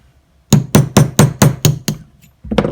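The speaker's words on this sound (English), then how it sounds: "We're going to drive the hammer pin out." A hammer strikes a 1/16 inch punch against a bench block to drive out a trigger hammer pin, giving seven sharp, close metallic taps at a steady quick rhythm, then a pause and another knock.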